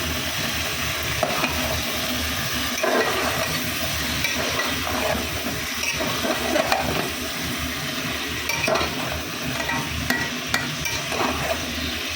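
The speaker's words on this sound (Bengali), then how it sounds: "আর এই চিকেনটা একটু নেড়ে দিই।" Chicken fries in a pan while being stirred, producing a continuous sizzle with repeated scraping and clinking of the utensil against the pan, close and fairly loud.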